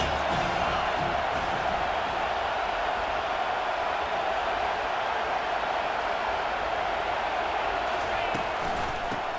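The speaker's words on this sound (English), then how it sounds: "this crowd is turning it up a notch" A stadium crowd roars continuously during a Georgia versus Auburn football game in EA Sports College Football 25, a dense, loud, sustained wash of cheering with no breaks.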